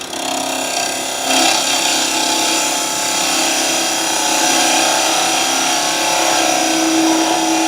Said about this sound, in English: I'm just taking a cut across here, and I'm going to be on the bevel again right away. And this is a 1/2 inch spindle gouge.